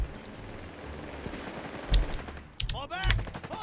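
Automatic machine gun fire from a machine gun team in Company of Heroes 3, the WWII strategy game, crackling in sharp bursts over a steady battle din, with a voice talking over it near the end.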